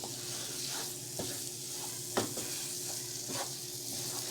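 Choux dough for profiteroles is beaten in a pot on the heat, a soft hiss and sizzle broken by regular spoon scrapes and knocks against the pot, quiet and close.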